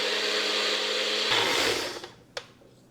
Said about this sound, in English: We're gonna pop it back in the blender